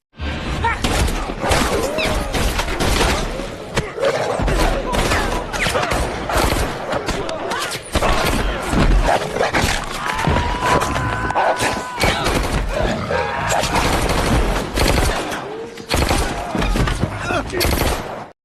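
Sustained bursts of gunfire from a John Wick film, with heavy impacts and crashing debris, loud and dense throughout, with brief lulls and some voices mixed in.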